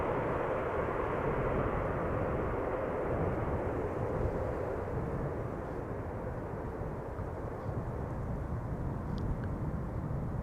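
A Boeing 787 Dreamliner takes off at Amsterdam Schiphol, giving a steady, broad jet roar that holds at an even, moderate level throughout, heard from some distance with no voices.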